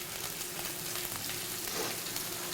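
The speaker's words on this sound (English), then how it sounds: "This is going to sear for probably about at least 6 to 8 minutes." Fish fillet searing in a hot pan, a faint steady sizzle and crackle with no talking.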